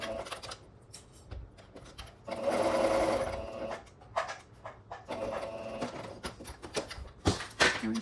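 A sewing machine stitches fabric for a New Look 6737 garment in short uneven bursts with pauses, close by, with light handling noises between runs.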